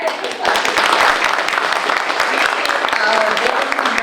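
Audience applause for Dave Duggan, the buildings and grounds person, at a historical society annual meeting: steady crowd clapping starting after a brief lull and sustained loudly throughout.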